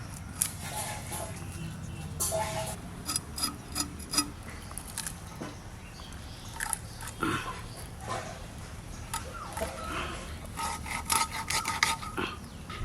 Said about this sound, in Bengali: রান্নাঘরে গিয়ে দুটো মাছের যে মশলা লাগবে আমি বেটে নিচ্ছি